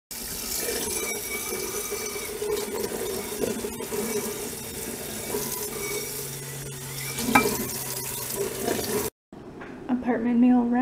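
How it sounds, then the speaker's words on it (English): Food sizzling in a frying pan in a new apartment kitchen, a steady hiss with stirring clatter and running-water noise, a voice speaking over it before a short cut near the end. "I have to watch that frying pan"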